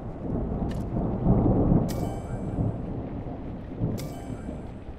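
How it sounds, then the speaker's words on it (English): A thunderstorm rolls in within the Airport Renovator video game, deep rumbling thunder over a constant rain wash, with two sharp crackling strikes breaking through. "Oh, that storm is a-rolling in real fast."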